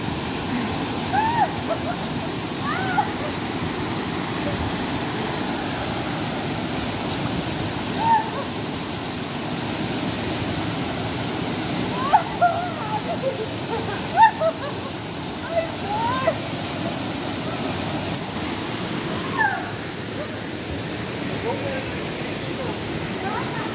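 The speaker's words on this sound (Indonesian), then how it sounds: "Satu, air terjun." Steady roar of the Aling Aling waterfall in Bali, a constant broadband rush of falling water close by, with occasional people talking and calling out over it.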